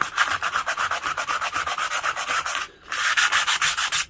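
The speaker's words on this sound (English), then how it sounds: "I've now finished with the finer sandpaper, the P60, number 60 it was." An alloy wheel being hand-sanded with P60 sandpaper produces fast, even back-and-forth scratching strokes, close and loud, with one brief pause before the rubbing resumes at the same brisk pace.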